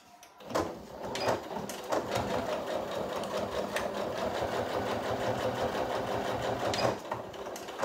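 A sewing machine stitches a backpack in a series of close, rhythmic whirring bursts with short pauses between runs, loud and mechanical with no talk over it.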